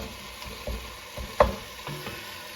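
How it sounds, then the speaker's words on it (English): Spicy Italian sausage meat browning in a pot with peppers and onions, giving a low steady sizzle with a few soft scrapes and one sharper clink of a utensil partway through; no one speaks. "we've been cooking our meat here with our peppers and onions for about another 3 minutes"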